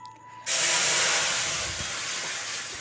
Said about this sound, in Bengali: এবার এই দুধটা দিয়ে দিচ্ছি এর মধ্যে